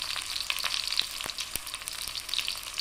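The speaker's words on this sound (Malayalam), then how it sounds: "വറവിടാനുള്ള ഉഴുന്ന് പരിപ്പ് മൂപ്പിക്കാൻ വെച്ചിട്ടുണ്ട്" Urad dal, mustard seeds and chillies sizzle in hot oil for a tempering, a dense, steady hiss with scattered sharp pops and crackles, close and fairly quiet, with no voices.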